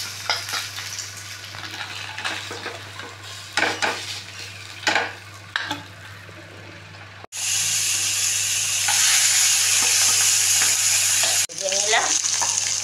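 Pieces of Katla fish sizzle in hot oil in a Bengali kitchen, with a steady loud frying hiss broken by the clatter of a utensil stirring and lifting the fish; no one speaks.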